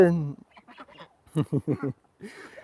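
Ducks quack inside a coop during corn feeding: a close, loud run of rhythmic quacks comes in a few clusters with brief gaps between them.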